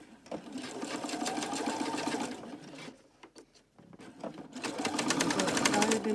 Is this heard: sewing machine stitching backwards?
yes